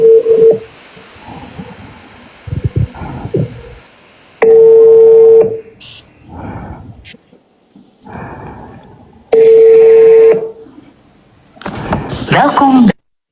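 A telephone ringing tone repeats in steady, evenly spaced bursts during a phone call, with people talking quietly between the rings.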